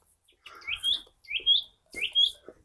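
Birds chirp outdoors on a quiet morning in open countryside, three bright rising calls repeating at a steady pace, close and clear with no traffic or voices.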